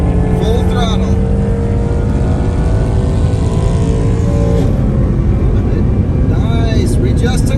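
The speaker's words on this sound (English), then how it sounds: "And let's go for a pass of the safety car, shall we? Full throttle." Volkswagen ID.3 electric car at full throttle while overtaking a safety car on a German road, a steady rising drive roar with wind and tyre noise, with a voice talking over it.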